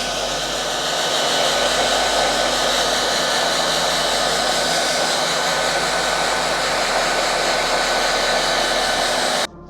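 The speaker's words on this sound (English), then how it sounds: "you just grab the hairdryer from the room and give it a blast" A hotel-room hair dryer blasts air onto a shirt, a steady loud broadband whoosh that runs unbroken for nearly ten seconds before cutting off abruptly at the end.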